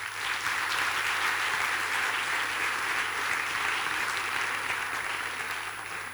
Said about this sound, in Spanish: me gustaría un aplauso para mi familia